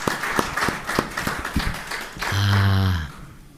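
Scattered hand claps from an audience at a Buddhist monk's talk, a brief loose patter of applause that fades into a low hum and a short voiced sound near the end.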